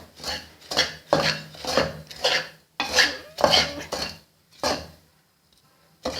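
Metal spoon breaking up pine nut halwa in a pan over low heat, a series of about nine rhythmic scraping and clinking strokes against the pan, close and fairly loud, ending in a brief pause.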